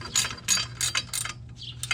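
A bolt being tightened during a P11 transmission install in a GTi-R swapped B13 Sentra SE-R, heard as a quick close run of ratchet clicks in short bursts with brief pauses between.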